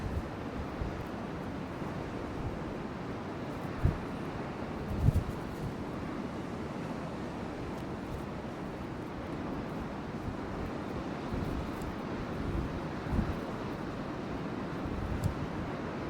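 Strong wind buffets the microphone on a Shetland coastline, a constant low roar with occasional gusty thumps over a faint background of surf, and no one speaking.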